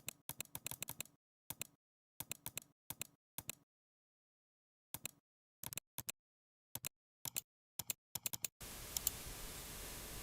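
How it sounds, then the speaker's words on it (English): Bursts of rapid simulated mechanical keyboard clicks, software-generated, in short clusters separated by pauses, close and crisp, ending in a steady hiss of noise. "Next up, keyboard sounds."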